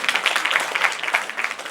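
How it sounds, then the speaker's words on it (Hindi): An audience at a stage cultural program claps briefly, with a short burst of scattered, uneven hand claps heard fairly close. "एक बार आपके लिए तालियां।"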